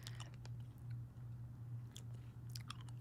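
Close, crunchy bites and chewing on a Warheads sour candy, irregular crackles over a low steady hum, with no speech.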